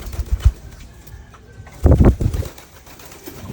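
A pet pigeon named Darna in free flight, giving short bursts of wing flapping, a quick flutter early on and a louder clatter of wingbeats near the middle, close by with quiet gaps between.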